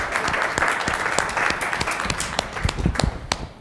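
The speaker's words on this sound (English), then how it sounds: "Let's give them a round of applause." An audience claps for two panel speakers at the close of an evening talk event, dense sustained applause filling the room without a break, fairly loud and close.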